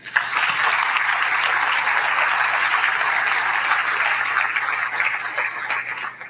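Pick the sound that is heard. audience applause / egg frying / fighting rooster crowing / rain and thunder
audience applause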